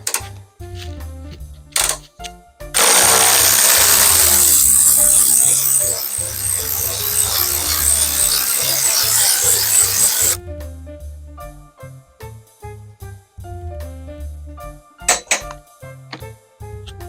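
Battery hold-down bolt being removed on a Pontiac Fiero, with close metallic clicks and taps followed by a loud sustained ratcheting and scraping stretch, then scattered clinks and knocks as the tool and bolt are handled.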